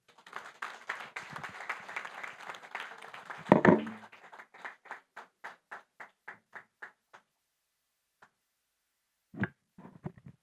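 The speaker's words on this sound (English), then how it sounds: "Don't you think she deserves yet another round of applause and even bigger?" Scattered conference audience applause swells briefly, then thins to a few individual claps that fade out, with a couple of stray claps later.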